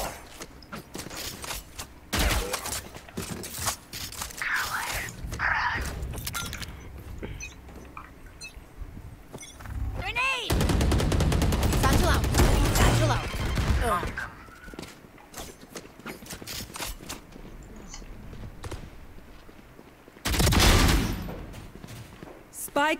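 Gunshots in the tactical shooter Valorant: scattered single shots and a long sustained burst of rapid fire, mixed with footsteps and mechanical clicks, while players talk over the game sounds throughout.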